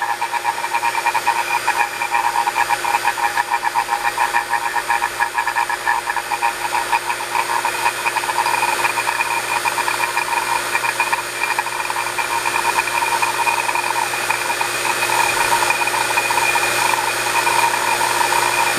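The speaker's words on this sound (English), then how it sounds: "Pump has gotten really quiet." A vacuum pump runs on an air conditioner condenser with a steady, loud mechanical drone and a high buzzing whine, continuous and unchanging from start to finish.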